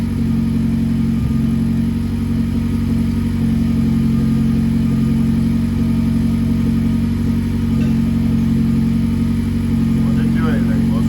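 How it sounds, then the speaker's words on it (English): A Nissan Juke's engine runs at a steady idle, a loud, constant low hum with no clear revving, while people talk faintly nearby. "So let's fire the car up and see what it does."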